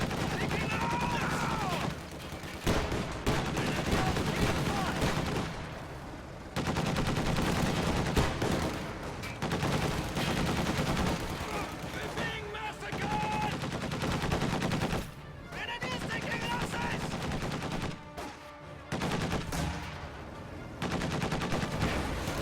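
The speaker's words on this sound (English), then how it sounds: "The MG42 is moving up to engage." Rapid bursts of MG42 machine-gun fire in a war video game, with other weapons fire mixed in. The loud, dense volleys run nearly continuously, broken by short pauses.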